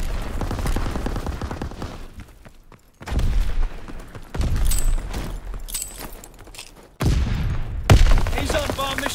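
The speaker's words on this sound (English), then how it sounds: "Firing for full effect." Heavy artillery barrage in the Call of Duty WW2 zombie event, with loud bursts of booming impacts and gunfire arriving in several waves that fade between volleys.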